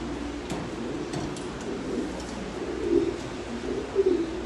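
Pigeons in a nesting box with eggs and squabs give soft, low, repeated coos, murmuring quietly and swelling a little toward the end, with faint ticking in the background.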